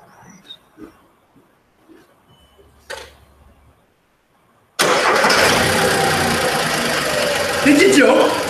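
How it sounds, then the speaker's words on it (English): A three-cylinder car engine cranks and catches after a few quiet knocks and shuffles, then settles into a loud, steady, slightly rough idle close by in a garage, with a brief surge near the end. "it's a 3-cylinder, so it sounds rough anyway"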